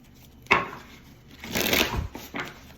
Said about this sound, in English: So let's get a few more shuffles in.